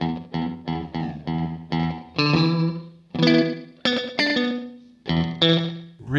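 Distorted electric guitar through a Fender Mirror Image delay pedal's digital delay plays rhythmic chords and single notes, each strike trailing into short, smeared repeats that blur into a roomy, reverb-like wash.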